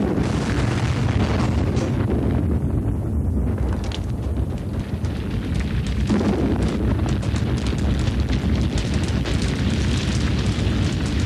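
A large staged explosion set off for a movie scene produces a sustained roaring, rumbling blast that fills the whole stretch, loud and broadband with turbulent, windy texture and no voices.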